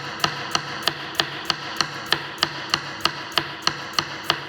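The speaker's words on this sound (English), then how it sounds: "So I have sliced these vegetables like this." A kitchen knife slicing vegetables on a cutting board: about fourteen crisp, evenly spaced chops in a steady rhythm, close and clear, with no talking.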